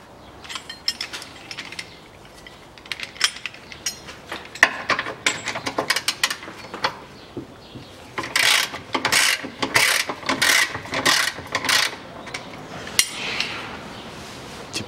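A wrench works the rear suspension bushing bolts on a Toyota Mark II JZX101, giving repeated loud metallic ratcheting clicks and clanks in bursts, close and with no talk.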